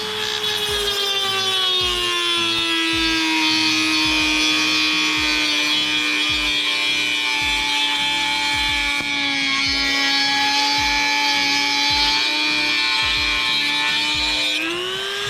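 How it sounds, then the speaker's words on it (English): A Dremel rotary tool cuts through a carbon fiber rear spoiler on a 1970-81 Camaro, giving a loud, steady high-pitched whine with a harsh grinding rasp that holds throughout and briefly rises in pitch at the end. "You can see using a Dremel is not really going to create a ton of sparks."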